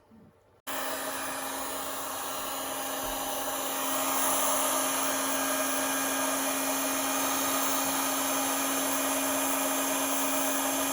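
A heat gun blows steadily while warming plastic repair material for body panels on a 1989 Kawasaki ZX7, starting abruptly after a brief quiet and holding a constant whirring hiss with a steady tone that swells slightly partway through.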